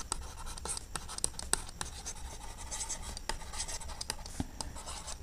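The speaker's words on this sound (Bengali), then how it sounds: "তাহলে লিখব নির্ণয় সমাধান" Pen scratching across paper in short strokes and taps while a trigonometry solution is written out, close and fairly quiet, with no talk.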